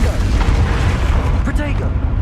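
A Confringo fire spell bursts in Hogwarts Legacy with a muffled, rumbling boom. A steady roar of combat noise sits under it, and a voice speaks over the blast.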